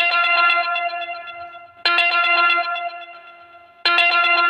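A bright, ringing GoBiz app new-order notification chime repeats three times at even intervals, each tone sustaining and slowly fading before the next strike; no talking.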